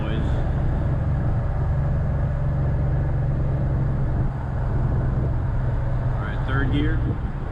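A Dodge Challenger Scat Pack cruising in fourth gear gives off a constant low engine drone blended with heavy, rushing wind noise from inside the car, loud and unbroken for the whole stretch.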